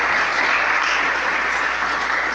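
A church congregation applauds loudly during a night service, a dense, continuous wash of many hands clapping together with no pauses.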